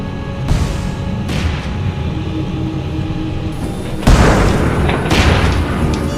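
A sudden loud bang recorded by the cockpit voice recorder of Japan Airlines Flight 123 cuts through the steady hum of the cockpit and is followed by a rougher, louder wash of noise.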